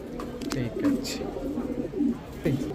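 Soft, low cooing of Rajshahi Giribaz pigeons at a pigeon market repeats in short rounded bursts, with a murmur of voices and background noise running throughout.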